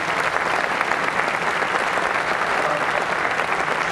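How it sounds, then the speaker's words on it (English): Steady audience applause fills a press conference room, a dense continuous wash of clapping from a sizable crowd with no pauses, loud and close. "Give her a round of applause."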